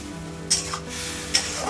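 Spice paste fries in a pan over a medium gas flame under a continuous soft sizzle, while a spoon scrapes through it in two short strokes, the second near the end.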